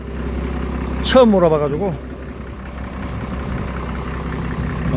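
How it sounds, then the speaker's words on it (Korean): An Iveco live-fish transport truck idles with a low, steady diesel rumble underneath a man's nearby speech, which rises briefly in pitch before the engine drone continues alone. "엔진 소리도 뭐 양호하고 그러네요."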